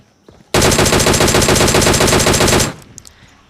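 Rapid automatic gunfire from an M416 rifle in a PUBG-style battle royale game, one loud sustained burst of tightly spaced shots lasting about two seconds before cutting off abruptly.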